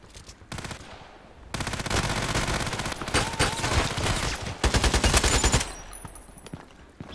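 Rapid bursts of gunfire from a sniper video game, with dense volleys of shots that stop and restart across the stretch, loud and close, with no talk over them.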